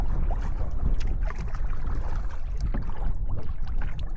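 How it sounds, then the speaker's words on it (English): A canoe is paddled across a lake in the evening, with continuous water splashes and wind buffeting the microphone throughout and no voices. "We paddle all the way down into this bay at the other end of the lake."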